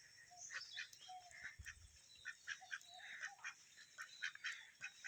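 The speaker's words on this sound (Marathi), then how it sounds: "आम्हाला या ठिकाणी दोन पक्षी बघायला मिळाले बदक आहेत" Two ducks quack faintly in short repeated bursts, sounding some distance away, with no voices nearby.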